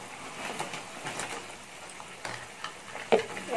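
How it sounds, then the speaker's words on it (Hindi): Fried cauliflower florets being stirred into hot Manchurian gravy in a pan with the heat just turned off, giving a soft, steady sizzle with scattered scraping and clicking from the spoon, a sharper clack near the end. "गैस बंद कर दिया, अब मैं ये गोभी मिक्स कर रही हूँ"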